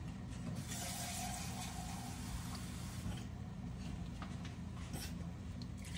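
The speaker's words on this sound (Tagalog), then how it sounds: "ang gagawin ko is lagyan natin ito ng tubig" Water from a tap runs steadily into a cooking pot in a home kitchen, a continuous rushing splash that holds fairly loud and close for several seconds with no talking.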